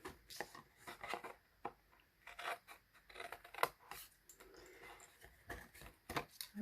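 Scissors cutting paper for a faceted paper ornament, a series of quiet crisp snips and rustles at an uneven pace, close but faint, with no talking.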